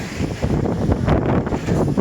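Gusty, icy cold wind beside an outdoor pool buffets the microphone with a constant low, rushing roar throughout.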